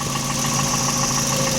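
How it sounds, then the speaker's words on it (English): A Scion tC's 2AZ-FE engine idles with its hood open, a steady close, even hum with a faint regular pulse and no revving or talk. "It idles very quiet."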